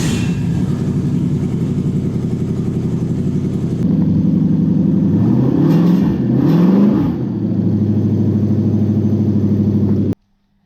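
A Toyota 1UZ V8 engine, just converted, runs loud and steady at close range, then gets a couple of quick rising revs before it settles back to idle and cuts off at the end.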